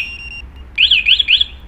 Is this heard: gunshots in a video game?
no